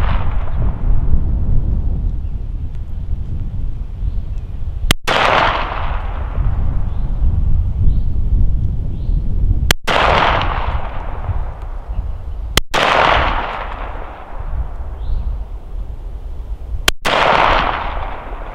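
A B&T APC9 9mm carbine fired at a 25-meter range with 124-grain rounds: five sharp, loud shots spaced a few seconds apart, each followed by a ringing decay over steady outdoor background noise, with no talk.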